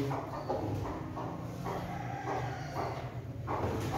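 A rooster clucks and calls repeatedly amid other fowl, moderately distant over a steady background hum.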